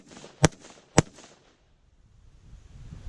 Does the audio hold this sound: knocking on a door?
no